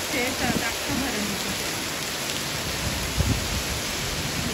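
Sudden heavy monsoon rain driven by wind over hillside farm fields, a steady dense broadband wash of downpour with a few louder gusty surges, close and continuous with no speech.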